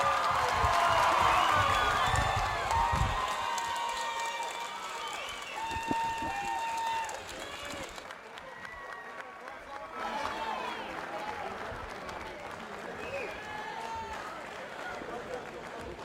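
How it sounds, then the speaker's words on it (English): A crowd at a Muay Thai fight rematch cheers, shouts and applauds through the final seconds of a round, a dense roar of many voices that stays steady under a commentator's fast talk. "Crowd rallying here behind Tiffany Van Soest."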